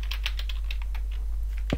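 Computer keyboard keys pressed in quick irregular bursts while playing the game Mad Father, close clacky taps ending with a louder thump, over a low steady hum and no talk.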